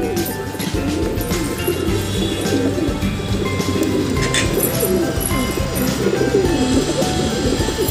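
Pigeons cooing steadily at close range, a continuous low murmuring coo that runs the whole time over faint background noise.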